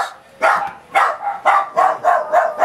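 Dogs barking in a rapid series of about six sharp, loud barks in quick succession, close by with no talk.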